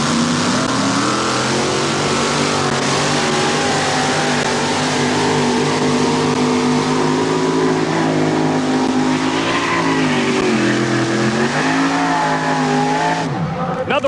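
A 1923 Ford T-Bucket two-wheel-drive tractor-pulling vehicle roars loud and continuous at a truck pull, engine note sustained and shifting in pitch, with a crowd and commentary audible underneath.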